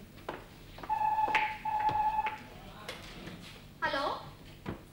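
A telephone rings inside a home in two electronic bursts of a steady tone, separated by a short pause. Voices and household noises are heard around the ringing.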